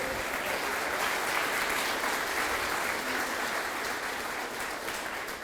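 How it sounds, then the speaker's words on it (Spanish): Congregation applauding during a church service, a steady, dense wash of many hands clapping at moderate level that holds evenly for several seconds with no voices over it. "Dale un aplauso al Señor, por favor."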